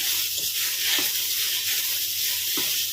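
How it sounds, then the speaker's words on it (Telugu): Grated carrot fries in a pan for carrot halwa, giving a steady, close hiss of sizzling with a few faint stirring scrapes. "క్యారెట్ తురుము అయితే వేగింది"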